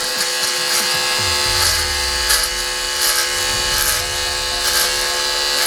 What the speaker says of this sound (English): Now I use the vacuum in a little bit and vacuum it out of here.